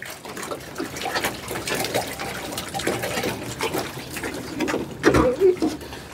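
Water being poured, a close, fairly quiet splashing and trickling stream with irregular patter and a brief louder gush near the end, with faint background voices.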